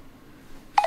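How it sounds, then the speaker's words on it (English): A phone lets out a brief burst of electronic beeps at the very end, sharp and fairly close after near silence. "I don't know if that's my phone."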